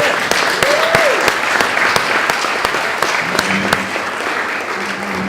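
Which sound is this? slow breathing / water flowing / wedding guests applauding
wedding guests applauding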